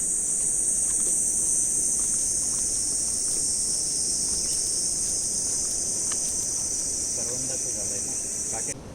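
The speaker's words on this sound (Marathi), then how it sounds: "रातकिड्याचा पण आवाज येतोय." Crickets chirp in a loud, continuous high-pitched drone near Bhatye Beach, Ratnagiri, unbroken throughout, with faint background noise beneath.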